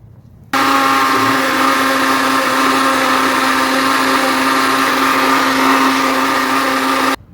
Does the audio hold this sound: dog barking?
no